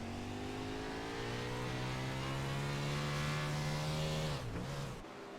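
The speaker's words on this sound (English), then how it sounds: "Hear him rolling the bottom off the throttle." A 410 winged sprint car engine drones loud and steady from an onboard position at Williams Grove Speedway, with rising pitch as the throttle is held, then a quick drop and recovery near the end.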